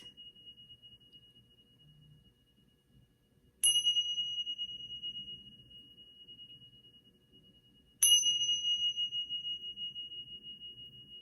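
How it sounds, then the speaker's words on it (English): A slight, clear bell chime rings twice, several seconds apart, each strike sharp and then fading slowly over a faint, quiet background. "You're going to hear a slight little bell noise."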